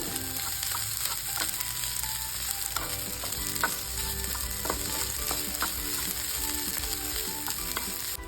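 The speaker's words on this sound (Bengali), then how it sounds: "এবার চিড়েটা সবজি আর ডিমের কুসুমের সঙ্গে একটু মিক্সড করে নেবো" Flattened rice tossed in a pan with vegetables and egg yolk, a loud continuous sizzle with rhythmic spatula scrapes and clinks against the pan.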